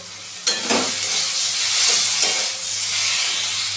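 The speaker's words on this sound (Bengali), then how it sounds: "চিংড়ি মাছটা আগের থেকে আমি ভেজে রেখে দিয়েছিলাম সেটাও আমি দিয়ে দিচ্ছি মশলার সাথে একটু ভালো করে আমি কষিয়ে নেব" Pre-fried shrimp frying with spices and turmeric in a pan, a loud close sizzling hiss sustained for the whole moment, with a brief scrape of stirring near the start and no voices.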